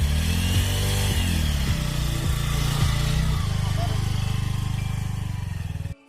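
A motorcycle engine runs loud and close, a steady low rumble with throttle changes shifting its pitch, continuing for several seconds before cutting off abruptly at the end.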